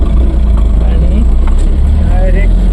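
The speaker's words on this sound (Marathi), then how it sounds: "आता हायवेला बाहेर काढतो गाडी" Truck engine pulling out onto a highway, a loud steady low rumble with road and engine noise throughout while someone speaks over it.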